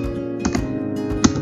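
Someone types a ping command on a computer keyboard, a few close, clear key taps over a steady low hum.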